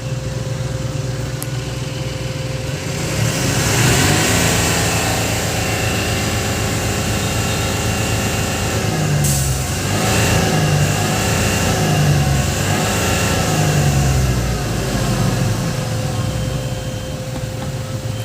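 A vehicle engine, an Eicher with a regeneration problem, revving as the accelerator is pressed, loud and close with rising and falling pitch over a steady drone, repeated surges in the second half.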